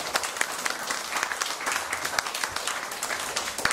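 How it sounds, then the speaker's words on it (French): Audience applause at a maritime book fair in Le Conquet, a dense crackle of many hands clapping at steady strength throughout, close and even, with no voices over it. "Je crois que ça mérite des applaudissements."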